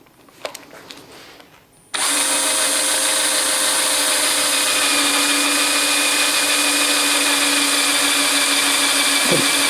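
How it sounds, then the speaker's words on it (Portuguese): An electric drill bores into a workpiece at a furniture-making class. It starts abruptly and holds a loud, steady, high-pitched whine with no break. A few faint knocks come before it starts. "Tá vendo a velocidade que eu tô furando? Olha lá o cavaquinho saindo já."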